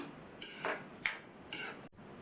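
Short metal clinks and scrapes of a spoon stirring potato and green pea gravy in a pan, three or four quiet separate strokes at close range.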